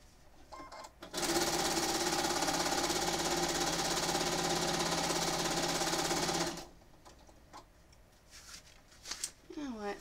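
A home sewing machine quilting fabric layers runs in one loud, continuous, close stitching burst lasting about five seconds. Quiet handling noises and soft talk come before and after it.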